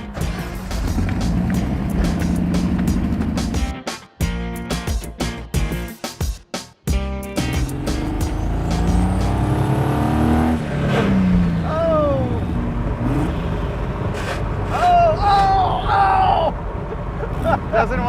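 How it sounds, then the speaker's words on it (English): Exhaust of a junkyard Chevy-powered, turbo-swapped 1971 Datsun 240Z while driving, a loud continuous engine drone that surges and rises in pitch as it accelerates, with brief gaps around gear changes and people talking over it. "I will coordinate the exhaust note to our speed since I don't have a tach"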